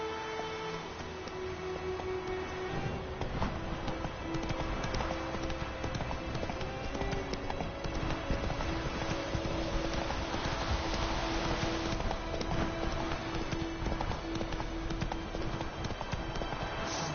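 Roach, a horse in the video game The Witcher 3, gallops in a steady, rapid clip-clop of hooves that runs continuously under a sustained musical tone and game ambience.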